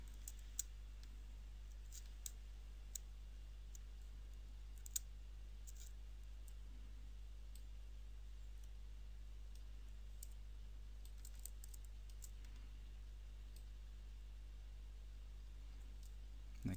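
Faint, sparse clicks from a computer mouse during a ZBrush sculpting session, scattered irregularly over a steady low hum, with short single clicks spaced seconds apart and no talking.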